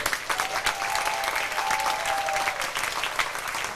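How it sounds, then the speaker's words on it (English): Sustained audience applause at a youth baseball championship ceremony in Tucson, Arizona, a dense, steady clatter of many hands lasting throughout, fairly close and loud, with no talk over it. "I think they all deserve another big round of applause"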